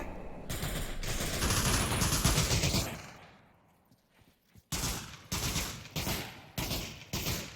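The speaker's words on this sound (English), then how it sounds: "Oricana pre-firing into the house, trying to get some kills through the walls." Sustained automatic gunfire pre-firing into a house in the shooter Pavlov VR, one long dense burst, a fade to near silence, then several short loud bursts in quick succession.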